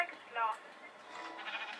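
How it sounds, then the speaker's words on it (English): A Minecraft sheep bleats faintly twice in short, wavering cries over low background noise. "Yeah, he's a sheep."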